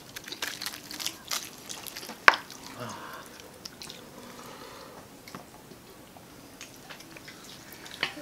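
Close-up crunchy bites and chewing of oven-cooked lechon pork belly, with crackly, crisp textures and wet squishing, one sharp crunch standing out; soft voices murmur in the background.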